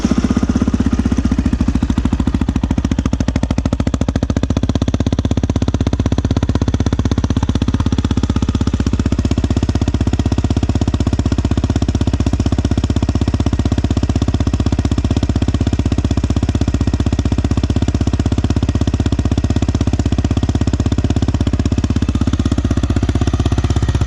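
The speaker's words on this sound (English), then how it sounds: "Start it up, show you guys what it sounds like." Yamaha Raptor 700R ATV engine, electric-started and settling into a steady, loud, close idle with a rough, thumping four-stroke pulse, alone without talk.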